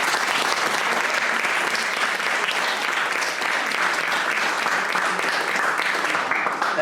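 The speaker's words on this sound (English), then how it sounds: "I wanted to give our trainers a round of applause" A workshop audience applauds its trainers with dense, steady clapping that stays loud and even for the whole stretch, with no talk over it.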